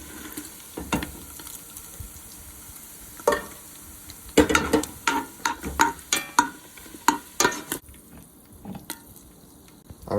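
Bacon being lifted out of hot fat in a stew pot, a faint sizzle beneath repeated scraping and clacking of a utensil against the pot, close and irregular.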